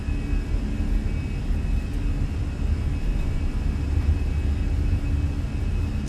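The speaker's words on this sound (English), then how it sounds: "Takeoff power set." American Airlines airliner engines spooling at takeoff power for a runway departure from Memphis in Microsoft Flight Simulator, a steady, loud, continuous deep roar with a thin high whine held throughout.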